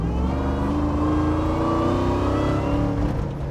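An 800 hp Tophat car engine revs hard, a loud, sustained mechanical roar with shifting pitch that fills the whole stretch without pause.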